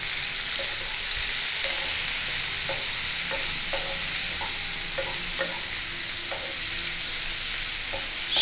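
Sliced bitter gourd fries in hot mustard oil with a continuous close sizzle. Light utensil taps and stirring clicks recur throughout.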